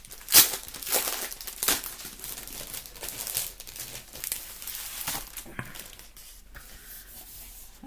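Scrapbooking supplies packaging is opened close up, with crisp crinkling and tearing in irregular bursts, loudest near the start and then quieter rustling, with no talking.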